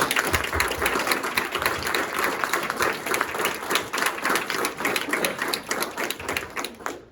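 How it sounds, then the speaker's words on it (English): Audience applause at a women's roll of honor induction ceremony, loud, close and continuous clapping from a room of people, fluttering in slightly uneven surges and trailing off at the very end. "Let's give us all a round of applause"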